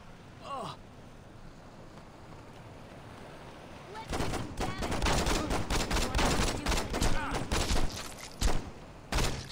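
Saints Row 2 video game gunfire: after a quiet opening, a loud burst of rapid shots breaks out and continues in clustered volleys, with sharp isolated cracks near the end.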